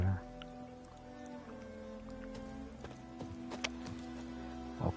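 Roach, a horse in The Witcher 3, clip-clops with irregular hoof hits under steady game music and ambience, ending in a couple of sharper, louder steps.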